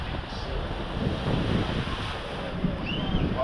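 Waves washing onto a Jamaican beach with wind buffeting the microphone, a continuous rushing surf roar at close range.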